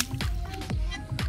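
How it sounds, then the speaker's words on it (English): Clean water from a swimming pool vacuum cleaner hose drains out in a steady close trickle, with repeated wet squishing gurgles as the flow pulses every half second or so. "This is the water coming from the swimming pool."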